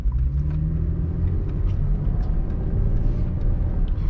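A 2011–2013 Chevrolet Camaro 1LT with a V6 and automatic transmission cruises along, its engine and road noise forming a steady low rumble heard from inside the car.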